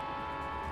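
A short train sound effect plays for a departure, a steady rumbling hum with no talk over it.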